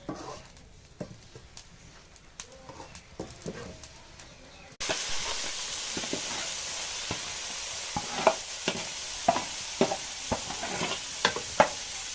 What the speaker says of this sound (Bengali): নাড়া দেন, ফোড়ন দিয়ে নাড়া দেন।